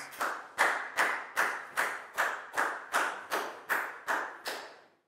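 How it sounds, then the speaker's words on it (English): Year 4 students in a math classroom clap in unison, about ten sharp, evenly spaced claps in a steady rhythm, each ringing briefly in the room before the next, fading out at the end. "High five and a big round of applause for Nadia, please, guys."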